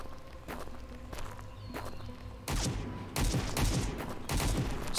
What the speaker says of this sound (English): Somebody shooting from somewhere again.